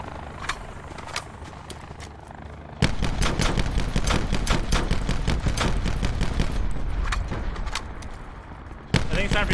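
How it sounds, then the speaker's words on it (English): Call of Duty Blackout match with rapid bursts of automatic gunfire, sparse shots at first, then a dense sustained barrage of overlapping fire, with a player's voice talking over it. "Everybody's shooting at him."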